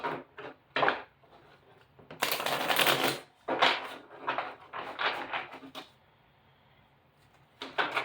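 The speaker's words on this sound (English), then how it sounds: "we're gonna give the Thoth Tarot a good shuffle" Thoth Tarot cards riffle and snap in several quick bursts, a longer rattling shuffle in the middle, with short pauses of quiet between them.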